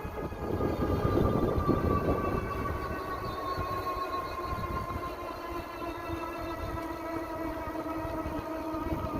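A GOKEEP L20 Pro 1800W 52V fat-tire electric bike motor whines steadily at full throttle while climbing a hill without pedaling, its rising electric tone sustained over a rushing wind and road rumble.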